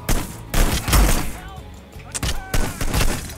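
Gunshots in the video game Hitman: Blood Money: a rapid run of loud, punchy shots in quick bursts, with voices talking over the gunfire.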